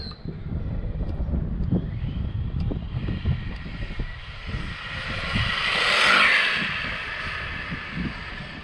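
An Arrma Grom remote-control rally car on a 3S battery runs at full throttle outdoors, its electric motor whining loudly and rising to a peak as it passes close, with steady wind and road rumble underneath.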